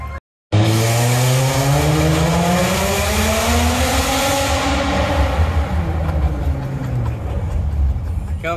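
A custom Dodge Charger's engine revs hard and loud, its exhaust roaring and rising in pitch, then holding a steady throaty drone up close.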